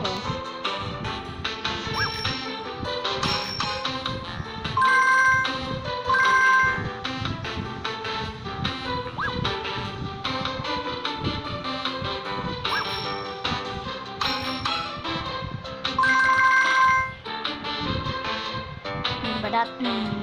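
A phone ringtone chimes in bright repeated bursts over a busy, continuous musical background, with short ding-like tones recurring through the passage.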